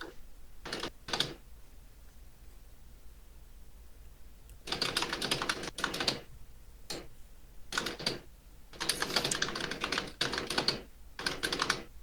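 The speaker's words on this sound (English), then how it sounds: "Sounds like an automatic typewriter." Rapid typing on a computer keyboard, close, dense clattering bursts of keystrokes separated by short pauses, growing busier and longer toward the end.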